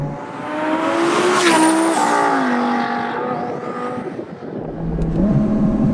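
A 1200 bhp twin-turbo Audi R8 accelerates hard, its loud engine note climbing steadily in pitch, dipping at a gear change, then pulling upward again. Heard close from inside the car, with no voices.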